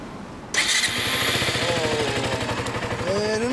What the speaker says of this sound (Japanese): 14、エンジン音聞かせてもらえるかな